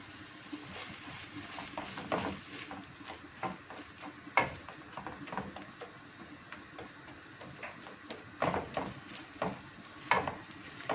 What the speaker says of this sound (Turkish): Biraz da bu şekilde soğanlarla beraber kavrulacak.